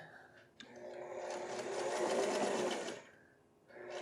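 A sewing machine quilts a vest, a fast, continuous whirring run of stitching close by that rises after a brief start and dies away near the end.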